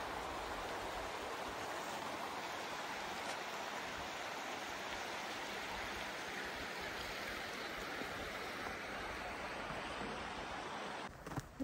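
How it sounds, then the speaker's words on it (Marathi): A clear river in Banff National Park flows in a steady, even rush of water that fills the whole stretch without letting up, close and moderately loud, with no talking. "पाण्याचा आवाज बघू शकता."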